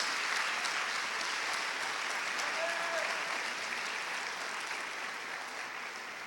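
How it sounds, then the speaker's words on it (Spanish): A church congregation applauds steadily and loudly for several seconds, a dense wash of clapping that holds level and fades slightly toward the end. "dale fuerte ese aplauso a nuestro Dios"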